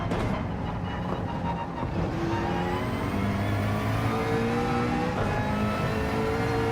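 A race car engine in a Gran Turismo 7 daily race, whining steadily upward through the gears in long rising sweeps, loud and continuous, with other cars faintly in the mix.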